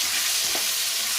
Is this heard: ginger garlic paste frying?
yes